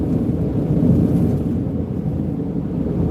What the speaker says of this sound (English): It's definitely windy tonight.